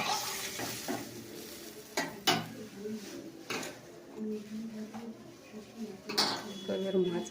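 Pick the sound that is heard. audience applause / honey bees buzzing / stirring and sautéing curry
stirring and sautéing curry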